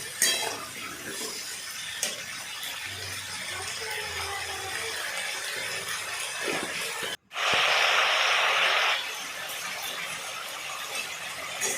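Small mourala fish and onion are stirred with salt in a pan, giving a steady scraping, clinking texture with a louder hissing burst partway through; no voices.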